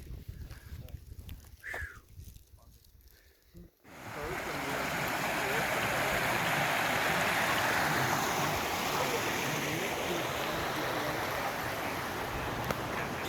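Quiet outdoor sounds on the Pacific Crest Trail near White Pass give way to a loud, continuous rushing of a nearby creek that persists steadily.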